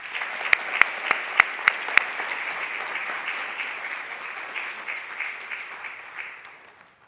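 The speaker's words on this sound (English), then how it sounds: "I think he deserves a round of applause" A school eighth-grade graduation audience applauds an honor student in a steady, full round of clapping, with a few sharp close claps standing out near the start before the crowd sound evens out and slowly tapers.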